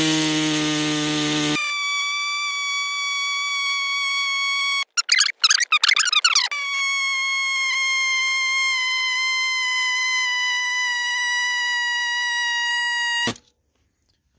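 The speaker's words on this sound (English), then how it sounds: "we can take our Saber saw and we can stick it down through, and we should be able to cut a straight line until we hit metal" A saber saw cuts a straight line through a GT3000 front wheel bushing until it hits metal, giving a steady high whine with a short choppy stretch of stuttering cuts in the middle before it stops abruptly.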